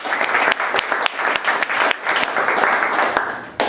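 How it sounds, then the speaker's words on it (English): A live talk-show audience applauds as a performer is introduced, a dense steady clapping with several sharper individual claps standing out, loud and close throughout. "give a round of applause for"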